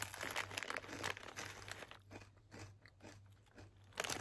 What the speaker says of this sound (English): It's crunchy, right? This is crunchy.